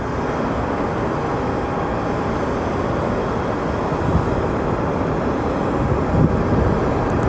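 A Boeing 787 Dreamliner airliner passes overhead at Sky Harbor, a steady broadband jet roar that holds fairly loud throughout and swells slightly toward the end, with no talk.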